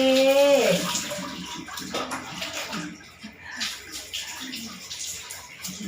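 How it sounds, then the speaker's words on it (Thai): Water splashes and pours while an elderly woman's face is washed during a bath, a run of close wet splashing and trickling that settles into softer dripping, with faint voices in the background. "ล้างหน้าก่อนนะ ยายเจ้าขาเดี๋ยวสดชื่น"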